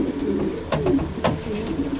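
Pigeons in a loft give repeated soft, throaty coos close by, in short rolling phrases across two seconds.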